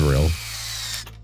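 A power drill in Robocop Rogue City whirs steadily after a brief voice at the start, then spins down and stops abruptly near the end.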